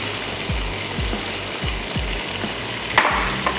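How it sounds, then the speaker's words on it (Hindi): Halved kabab buns toast on a hot pan with a steady, close sizzle, punctuated by soft repeated low thumps and a brief clatter near the end; no one speaks. "सेंटर से कट कर लेते हैं और टोस्ट कर लेते हैं"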